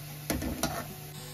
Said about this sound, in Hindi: इसे अब थोड़ा सा स्लो गैस पे या मीडियम गैस पे हमने इसको लाल करना है प्याज लहसुन अदरक